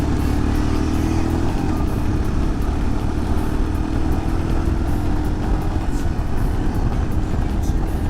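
Royal Enfield motorcycle on a demo ride, its engine running loud and steady throughout with a continuous mid-pitched drone and wind rush, and no break in the sound.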